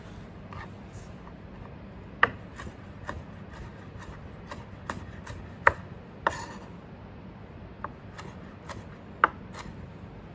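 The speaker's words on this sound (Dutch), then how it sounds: "vlees gaan we alsjeblieft een beetje kleiner snijden" Sporadic knife taps on a cutting board while meat is cut smaller, sharp isolated clicks at uneven intervals over a low background hum, fairly quiet and close.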